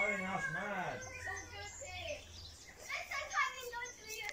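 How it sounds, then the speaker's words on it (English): Chickens cluck and warble nearby in a garden, mixed with a voice and other chatter outdoors. "And the chickens are here. Chickens are doing well."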